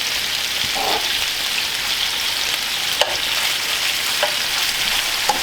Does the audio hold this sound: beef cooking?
yes